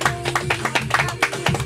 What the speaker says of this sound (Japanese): まずは先行の T2 が良かったと思う方、